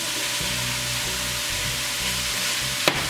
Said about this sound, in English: I'm gonna cook my bacon in it